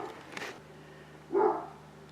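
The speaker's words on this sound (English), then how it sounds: "Right now he's barking at a cat outside." A dog indoors barks at a cat outside: one short muffled bark near the middle, moderately loud against a steady low electrical hum and quiet room noise.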